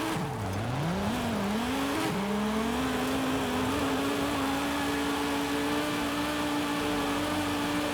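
A car engine in the racing game Forza Horizon 5 dips and climbs in pitch, then holds a high, steady drone for several seconds, loud and alone with no talk.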